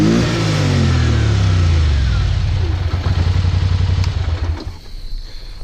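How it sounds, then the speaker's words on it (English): A Polaris Sportsman 850 ATV with its factory exhaust idles loudly up close, then is switched off; the engine winds down into a slowing chug before going quiet. "As you can hear, it still even has the factory exhaust."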